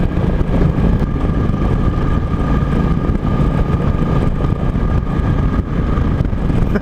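A cruiser motorcycle ridden for the first time by a sportbike rider, a continuous loud engine roar mixed with heavy wind rush past the microphone, steady and unbroken for several seconds.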